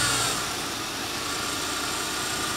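Carburetted engine of a 1971 Lincoln Mark III running rough, a steady close broadband rumble with slight unevenness and no speech.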